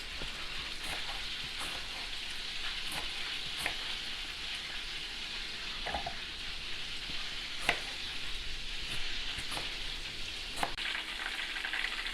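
Meatballs sizzle and fry steadily in a pan, a continuous crackling hiss with scattered sharper pops and spits throughout, fairly close and without voices.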